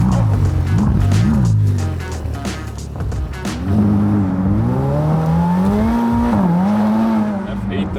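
A Ferrari F8 Tributo engine hums steadily while driving, its low drone rising and falling with gear changes and revs, close and continuous, with someone talking over it at times.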